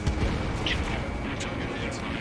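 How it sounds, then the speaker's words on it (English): A missile launches and strikes its target in the Ace Combat 7 jet combat game, heard as a steady roaring rush with dull booms beneath it and radio voices talking over it. "Missile launched."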